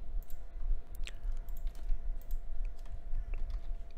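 A ChatGPT prompt is typed on a computer keyboard: quiet, irregular keystrokes clicking close by over a low room hum, with no voice.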